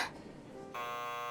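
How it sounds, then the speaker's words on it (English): A theater buzzer in the visual novel CHAOS;CHILD sounds partway through: a steady, sustained electronic buzz that starts suddenly after a quiet moment and holds at an even level to the end. "After a while, the buzzer rings, and the curtain comes up."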